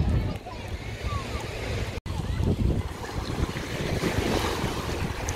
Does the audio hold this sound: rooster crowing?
no